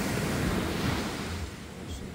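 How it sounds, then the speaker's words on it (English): Ocean surf on a beach in Crete rushes as a steady, loud wash of broadband noise, with wind buffeting the microphone and the waves easing slightly toward the end. "you might not be able to hear me because of the waves"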